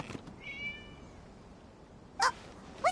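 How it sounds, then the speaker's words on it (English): Two short, close cat meows in the Genshin Impact video game, the first around two seconds in and the second near the end, standing out from a quiet ambient background with a faint tonal chime earlier. "It was just a cat."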